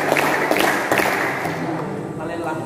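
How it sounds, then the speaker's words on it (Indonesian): An audience claps hands together in unison about five times at an assembly, the sharp group claps spaced fairly evenly over a steady murmur of crowd voices and room noise. "5 kali tepuk tangan"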